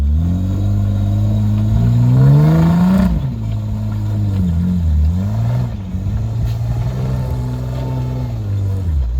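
A monster Jeep on 40-inch tyres revs hard on a steep rally climb in South Africa, its loud engine rising and falling through several throttle bursts, close and continuous.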